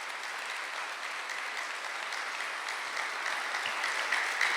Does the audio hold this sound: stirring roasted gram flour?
no